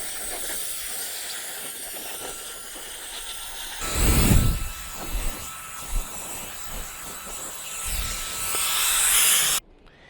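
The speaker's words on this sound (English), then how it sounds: "That is why I got one of these brushless battery powered blowers" A brushless battery-powered blower blasts dirt off an MJX Hyper Go 7303 1/7-scale RC rally car. A steady rushing hiss rises into louder gusts midway, then cuts off abruptly near the end.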